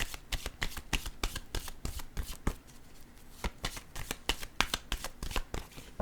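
Tarot cards riffled and shuffled by hand during a card reading, a rapid run of crisp papery flutters and snaps repeating steadily throughout, close and moderately quiet, with no talking.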